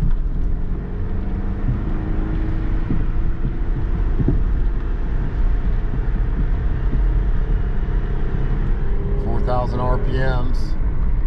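A 2005 Kia Sportage with throttle position and idle control faults, engine droning steadily under road noise while driving and upshifting, a rising then falling whine near the end, with a person talking over it.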